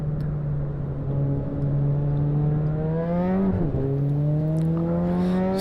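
In the Assetto Corsa racing game, a race car's engine hums steadily through a timed lap, pitch climbing smoothly with a brief dip and shift before rising again, fairly quiet and without talk.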